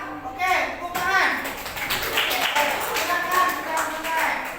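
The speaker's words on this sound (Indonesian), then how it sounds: "Oke, tepuk tangan." A class of students claps hands together in a scattered, ragged burst that runs under overlapping voices.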